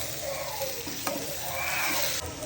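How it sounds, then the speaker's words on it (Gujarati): Potatoes tipped into a hot pan with spluttered cumin seeds and raw garlic paste, frying with a steady close sizzle, a sharp clack of the spoon or pan near the middle, and stirring scrapes throughout. "હવે આપણે એમાં બટેકા એડ કરીશું."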